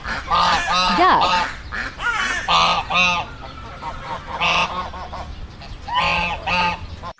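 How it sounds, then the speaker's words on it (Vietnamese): Domestic waterfowl call loudly and close in a rapid run of nasal, honking quacks, several birds overlapping in bursts with brief gaps between. "Duck."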